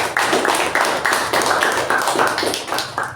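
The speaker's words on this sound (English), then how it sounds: "Let's give her a round of applause" Toastmasters meeting audience clapping in a round of applause, with sharp, evenly spaced claps close to the microphone, loud and steady.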